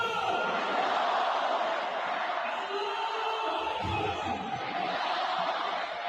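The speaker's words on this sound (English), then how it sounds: "he received the adoration of a huge crowd in Tehran after the announcement of his selection" A huge crowd in Tehran roars and cheers continuously, a dense steady wall of voices with occasional whoops, loud and unbroken throughout.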